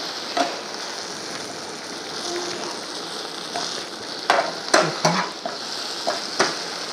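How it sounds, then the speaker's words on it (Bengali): Chicken gravy spices fry in oil in an uncovered pan and are stirred, giving a steady close sizzle with scattered scraping knocks of the spoon against the pan. "এইবারে আমি ঢাকনাটা খুলে নেড়ে নেব।"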